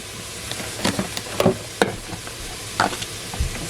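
Onions cook down gently in a pot with salt, a low steady sizzle under several scraping strokes of a spoon against the pot, close and moderate in level.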